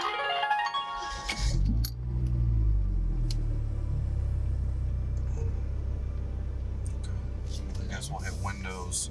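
A car engine cranks and catches at close range, followed by a steady low idle rumble inside the cabin, with a few light clinks and brief talk early on.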